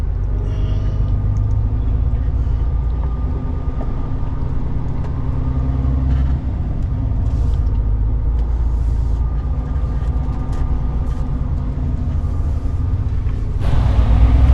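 A heavy truck hauling a Komatsu PC360 excavator pulls around, its engine a loud, steady low rumble close by that holds throughout. No one speaks.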